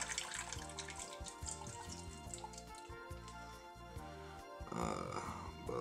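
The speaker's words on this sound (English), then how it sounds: "let me get that water out of there." Water glugs and splashes as it is poured from a water-cooled PC radiator into a sink, with irregular gurgling bursts and a louder rush near the end.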